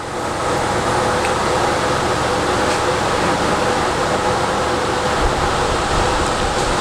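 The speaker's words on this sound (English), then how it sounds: "So we're going to use the bandsaw for this process." A bandsaw runs with a steady, loud mechanical hum and broadband rush while cutting wood freehand along a marked line for a small watch display holder. The noise is continuous throughout, with no voices.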